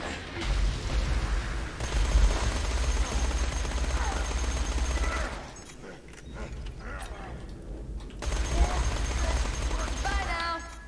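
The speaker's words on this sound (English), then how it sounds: "SMGs fire really fast now." Rapid SMG fire in a Borderlands-style video game boss fight against Greedtooth and his Gold Golem, sustained bursts of fast automatic shots with a short pause in the middle, mixed with game effects.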